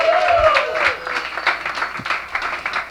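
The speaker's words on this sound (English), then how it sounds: "Give me a round of applause." Audience applause at a Las Vegas comedy open mic, a burst of clapping and crowd noise from a room of listeners, fairly loud and close, with a faint voice briefly audible at the start.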